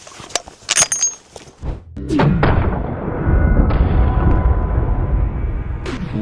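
A gunshot fired at a stack of frying pans: several sharp clanks and thuds, then a heavy boom that rolls on as a sustained rumble outdoors, with no speech.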